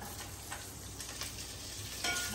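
Chillies and onions sizzle and fry in a pan of hot oil for bagara rice while being stirred, giving a steady close hiss with a few brief scraping strokes.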